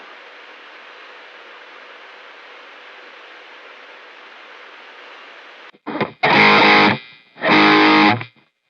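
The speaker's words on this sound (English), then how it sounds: "Try and add some simple reverb here," Guitar played through a Sonicake Pocket Master modeler with a simple room reverb: after a stretch of steady hiss, two loud sustained strummed chords ring out one after the other, each fading briefly into the room.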